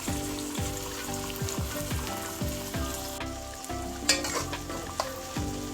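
Seasoning sizzles and fries in a pot for a saltfish stew with gungo peas and sweet potato dumplings, a constant crackle broken by repeated stirring scrapes and light clinks of a utensil.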